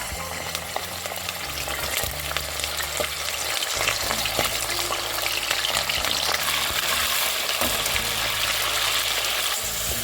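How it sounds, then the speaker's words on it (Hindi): Chicken pieces frying over high flame in hot refined oil in a kadhai, a loud, steady sizzle with bursts of stirring and scraping throughout, close up and without speech. "अभी हम हाई फ्लेम पे चिकन को अच्छे से भूनेंगे"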